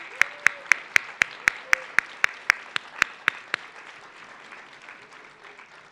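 Closing-remarks audience at an arts and community development gathering applauds the ArtPlace America staff, with a dozen loud, evenly spaced claps standing out over a softer crowd patter that fades away after about three and a half seconds.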